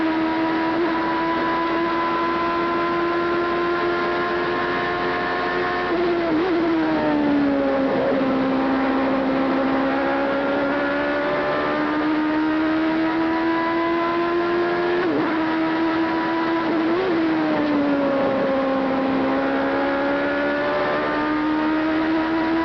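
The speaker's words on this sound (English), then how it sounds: "Listen to the sound of this V8." Onboard a V8 Formula 1 car at the 1989 British Grand Prix, the engine screams steadily at close range, its pitch rising through each gear and then dropping sharply at several shifts and braking points, with no voices.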